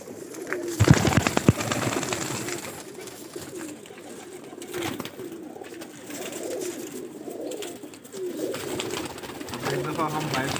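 Pigeons coo repeatedly in a rooftop loft, with soft, throaty rolling calls from several birds close by, mixed with a brief flutter of wings near the start and a low background hum.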